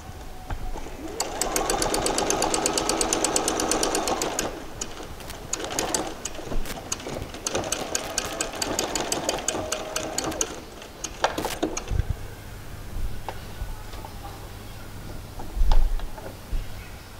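A sewing machine runs in fast steady bursts while stitching a fly piece to the end of a seam on a pair of shorts, loud and close, stopping and restarting, with pigeons cooing faintly in the background near the end.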